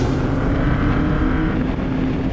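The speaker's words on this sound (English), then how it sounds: "When the engine fires up and you're going" A Super Vee race car engine runs with a steady, loud, dense roar that holds unbroken for a couple of seconds, with no voices.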